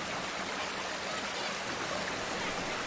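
Hundikuristiku waterfall and stream at the edge of Kadriorg park in Tallinn, a steady, soft rushing of falling and flowing water, even and continuous without any voices.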